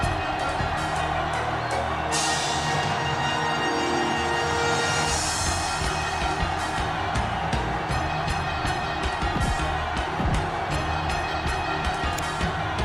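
A stadium crowd roars at kickoff in a Seahawks versus Broncos football video game, a dense, steady wall of cheering that stays loud throughout the clip with a brief brighter swell early on.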